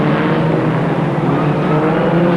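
Formula Ford 2000 Delta race car driven near at speed, a loud steady engine roar holding through the whole stretch with no voices.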